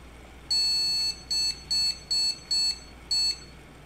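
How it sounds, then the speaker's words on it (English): ASUS ROG PC motherboard POST beep codes: six clear electronic beeps, the first long and the rest shorter and evenly spaced, sounding alone over faint background hum. "One long beep and 3 long beeps."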